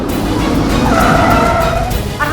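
A car brakes to a stop with a loud, close tire screech lasting about a second over rumbling road noise, then settles.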